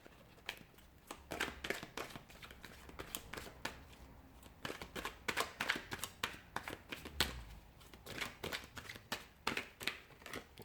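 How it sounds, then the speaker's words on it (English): A deck of tarot cards being shuffled by hand, with rapid, close, crisp riffles and slaps that repeat steadily in quiet bursts, and no voices. "we're going to go ahead and give the cards a shuffle"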